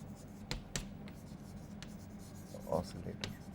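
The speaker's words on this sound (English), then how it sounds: "So I should write here" Chalk or marker writing on a board during a physics lecture: intermittent short taps and scratchy strokes, quiet and close, over a steady room hum, with a brief murmur of voice near the end.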